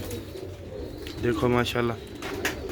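Old-breed Bateray pigeons coo softly as a male chases a female, giving a few low, throaty rolling coos close by while someone speaks briefly over them.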